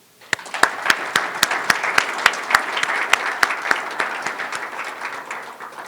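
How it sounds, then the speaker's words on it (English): An audience at a Somali ambassador's speech in New York breaks into applause. A few distinct, sharp claps come first, then fill into steady group clapping that gradually thins out. "Please help me give them a round of applause."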